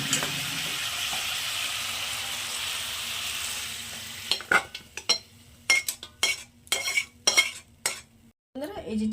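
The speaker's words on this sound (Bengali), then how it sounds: "এবার আমি এটাকে একটা পাত্রে ঢেলে নিচ্ছি" Lightly fried chicken for chicken kalia hisses in the pan at first, then a run of irregular clatters and scrapes follows as it is tipped and scraped into a pot, fairly close and loud.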